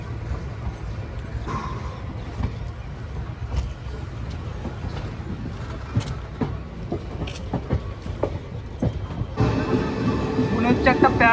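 The Teesta Torsa Express rolls out of Belgharia beside a second train, giving a low continuous rumble dotted with irregular wheel clacks that swells louder near the end.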